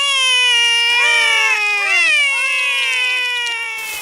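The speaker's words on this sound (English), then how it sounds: "The kittens are Holly and Fleur" Cartoon kittens meowing in Ben and Holly's Little Kingdom: loud, drawn-out, wavering high-pitched cries that overlap and rise and fall in pitch, close and clear with no talking.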